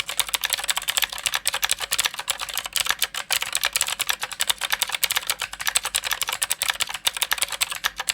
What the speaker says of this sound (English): Here's the Ergodox keyboard.